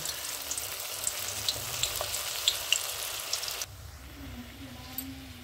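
Manchurian balls deep-fry for a second time on a low flame, a continuous fine bubbling sizzle with scattered pops, softening partway through as the frying settles.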